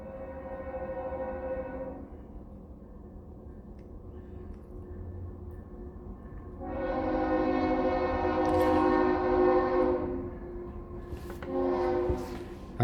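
A train passes at a distance from a house, its horn sounding in two long tonal blasts with a shorter third call, over a low rolling rumble.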